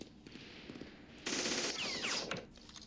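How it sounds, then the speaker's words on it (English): Machine gun fire in the wargame Campaign Series: Middle East, with a steady patter of shots that swells into a louder, denser burst midway and fades near the end, with no voices. "I think we've got some more shooting to do here."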